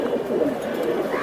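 Pet pigeons coo in a short, low, rolling burble close by, with faint background noise and no clear speech.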